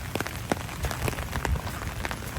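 Heavy rain falls steadily on surfaces at a campsite, a dense, even hiss of drops with no voices.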